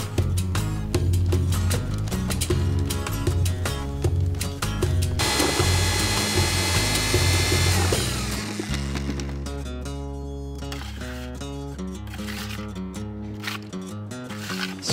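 A power mixer churns Earthaus stone-finish plaster in a bucket, a loud, close mechanical whirring with rhythmic rattling that shifts pitch and intensity as the paddle works through the mix, with no talk.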